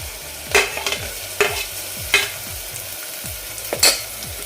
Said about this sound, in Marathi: आता यामध्ये मी टॉमॅटो घालते